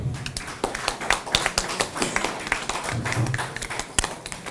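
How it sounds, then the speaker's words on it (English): Scattered clapping from a small gathering at an electoral commission event, irregular and moderately loud, with sharp individual claps forming a short, uneven round of applause. "A round of applause once."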